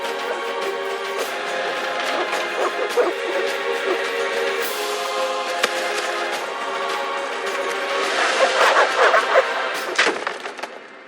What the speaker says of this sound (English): The dogs will tear her apart.